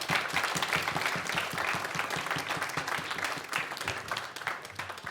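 An audience applauds at a live performance venue, a dense, steady wash of many hands clapping close and loud throughout, with no pause or build.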